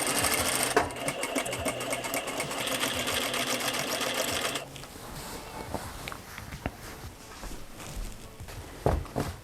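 A sewing machine runs in a steady, fast stitching burst through layered corset lining for about four and a half seconds, then stops, leaving quieter handling noises and a few soft knocks.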